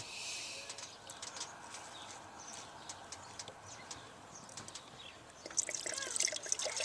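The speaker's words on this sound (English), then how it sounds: "you can hear the rest of the fuel drain out of the fuel filter itself" Diesel fuel drains from a removed fuel filter on a 2000 7.3 Powerstroke, a soft, steady trickle and dribble running throughout, with a slightly louder splashy patch near the end.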